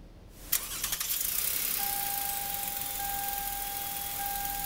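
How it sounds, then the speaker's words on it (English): A car engine cranks and fires up with a brief rattling burst, then settles into a steady, faint idle with a thin whine over it, heard up close with no talking. "Let me go start the car and we'll analyze the pattern."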